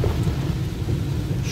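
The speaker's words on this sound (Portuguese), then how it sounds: "Chuva nesta quinta-feira." Heavy rain pours steadily on a flooding street in Rolândia during a thunderstorm, a loud, continuous dense roar with low rumbling beneath and no voices.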